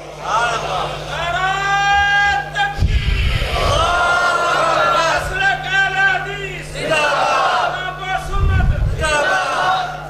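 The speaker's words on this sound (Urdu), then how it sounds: "ادھر سے نعرہ رسالت لگ رہا تھا" An audience at a religious gathering roars the Nara-e-Risalat slogan in repeated call-and-response chants, loud massed voices rising in bursts with brief gaps between them.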